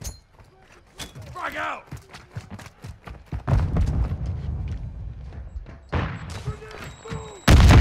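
A frag grenade thrown and exploding in the video game Modern Warfare 2: scattered clicks, thumps and game effects build to a loud, sudden blast at the very end, with voice chatter in between.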